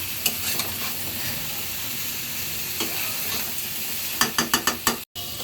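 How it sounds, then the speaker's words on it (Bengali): Bitter gourd mixed with egg and potato frying in a pan, with a steady close sizzle throughout and a quick run of scraping stirring strokes near the end; no talking. "ভালো করে ডিমটার সাথে উস্তাটা ভালো করে মিক্সড করে দিতে হবে।"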